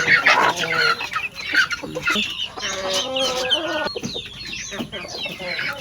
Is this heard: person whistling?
no